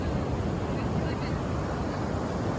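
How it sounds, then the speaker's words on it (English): Ocean waves wash onto a sandy beach in a steady, broadband roar with some wind buffeting the microphone, continuous and fairly loud throughout. "listening to the waves"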